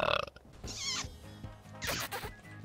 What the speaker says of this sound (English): Says that wasn't kiss, that was burp